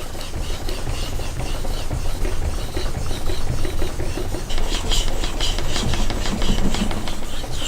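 A knife blade rubbed back and forth on a Japanese natural Suita sharpening stone under pressure, giving a steady gritty rasping scrape with a faint underlying rumble, growing brighter and more rhythmic in the second half.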